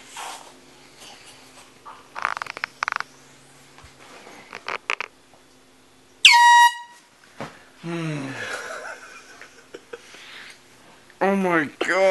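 An air horn blasts loudly up close to wake a sleeping person, a sharp burst followed by a startled voice and laughter, with scattered talk before and after.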